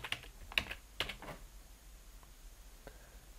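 Computer keyboard keys tapped to type a search word into Microsoft Word, a few quick clicks in the first second and a half followed by a couple of faint isolated taps, close and quiet.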